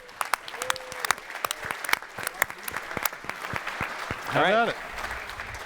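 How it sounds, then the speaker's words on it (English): Scattered audience applause at a software conference closing session, clapping steadily and then fading as a voice speaks over it. "So big round of applause to the team here."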